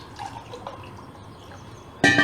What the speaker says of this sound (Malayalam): ഒരു 3/4 കപ്പ് വെള്ളം ഒഴിക്കുന്നു.